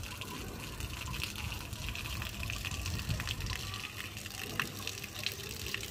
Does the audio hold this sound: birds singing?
no